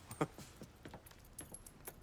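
Keys jangle in Mafia III: Definitive Edition, a few quiet metallic clinks and rattles close by, faint and brief against a hushed game background.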